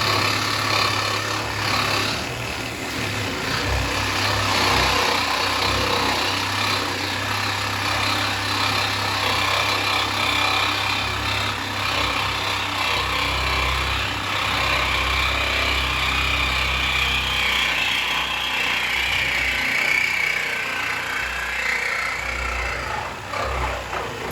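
A power saw blade grinds steadily through the cab bolts on a 1959 Apache truck, a loud, continuous high whine with rough metallic texture that holds for the whole stretch without pause.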